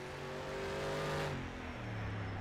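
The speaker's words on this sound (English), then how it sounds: "Oh, that engine sounds glorious." Race car engine in rFactor 2 at a Targa Sicilia special event howls loudly at high revs, then drops sharply in pitch as it passes or shifts, alone with no voices.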